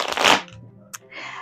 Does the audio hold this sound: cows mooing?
no